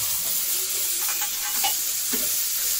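Food being pressed down as it cooks in a pan at a Jammu-style home kitchen, giving a steady faint sizzle and frying hiss with a few soft stirring scrapes, no talk.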